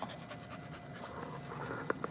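A dog pants steadily and quickly against a constant high insect-like hum, with a couple of soft footfalls near the end.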